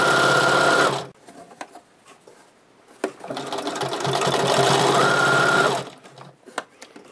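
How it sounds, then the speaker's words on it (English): A home sewing machine stitches quilt binding around a corner, running in two loud close bursts of rapid whirring with a pause of scattered clicks between them, pitch rising and easing as the speed changes. "In my machine, when I backstitch, when I take my first stitch forward, it's going to automatically backstitch"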